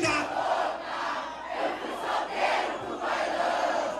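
A large crowd at an MC Ryan SP funk show in Fazenda Rio Grande, Paraná, shouts and cheers in repeated swelling waves, dense and moderately loud, with no clear talk over it.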